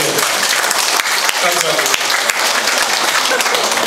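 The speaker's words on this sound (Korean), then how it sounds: "오늘 이 행사에 참석해 주신 존경하는 내외 주민 여러분에게 큰 박수를 보냅니다" Loud, dense applause at a Korean-American inauguration ceremony for a Syngman Rhee memorial foundation chair, steady clapping from a large audience throughout, with a voice speaking briefly over it.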